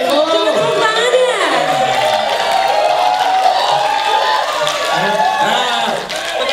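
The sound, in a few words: audience clapping and cheering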